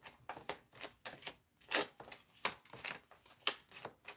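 Tarot cards being shuffled by hand in a steady run of crisp riffling bursts, close and fairly loud, with no voices.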